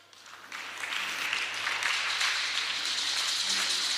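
Applause from a church congregation swells within the first half-second and holds as a dense, steady clatter of many hands, filling the room evenly to the end without pause.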